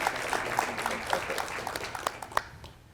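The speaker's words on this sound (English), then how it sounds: "Let's have a round of applause for them." Audience applause for graduating students at a School of International Studies hooding commencement ceremony, a steady wash of clapping from a crowd that tapers off at the end, with a few sharper individual claps.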